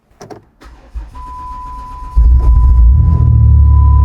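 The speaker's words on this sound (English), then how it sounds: "This is a nice cold start." A minivan engine with 230,000 miles cold-starts, cranking briefly and catching, settling into a loud, steady idle rumble with a thin whine running underneath, recorded up close.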